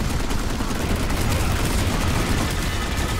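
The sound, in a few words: gunfire in the video game Planetside 2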